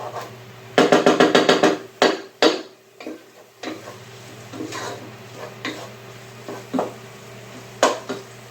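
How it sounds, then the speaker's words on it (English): A spoon stirs tamarind paste into mushroom broth in a pot, giving a quick run of close metallic clinks and taps followed by scattered, slower knocks against the pot over a low steady hum. "Get that, stir it all in there together."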